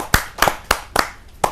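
A small group claps to welcome Kapil Mishra at a kavi sammelan poetry gathering. The claps come in about five sharp, separate bursts, close and fairly loud, with no talking.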